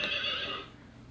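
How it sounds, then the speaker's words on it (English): A horse gives a short whinny, loud at first and then fading, over a low background hum. "Horsey."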